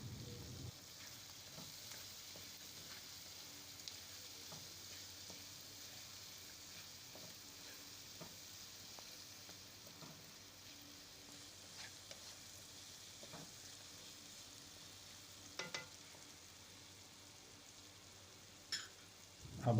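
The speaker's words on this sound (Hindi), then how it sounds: "फ्राई कर लेना है प्याज को" Onion and capsicum fry in a pan with a soft, steady sizzle, quiet and continuous, broken by occasional faint clicks and stirring knocks.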